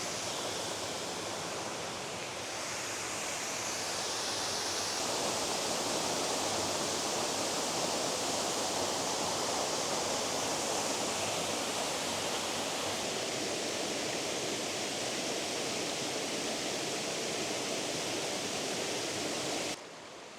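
Mathena Falls pours through Tasmanian bush in a steady, close, full-bodied rush of falling water that holds constant and then drops off abruptly at the very end.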